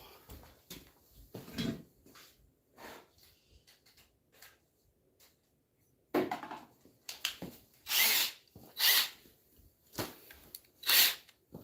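A power drill fires in a series of short, uneven bursts, some faint and others loud and close, with quiet gaps between them and no voices.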